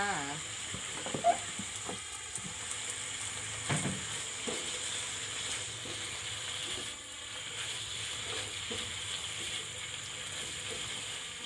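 Straw mushrooms and spring onions stir-fry in oyster sauce with a faint, continuous sizzle, punctuated by light taps and scrapes of a spatula in the pan, with a voice speaking softly now and then.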